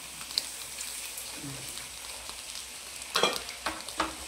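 Faint, steady sizzling of grated coconut frying in a pan, broken near the end by a few sharp scraping stirs.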